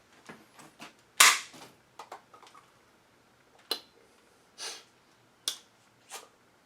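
Foam dart blaster firing half darts, heard as a loud sharp pop followed by several spaced clicks and softer puffs of air, close to the listener with no talk.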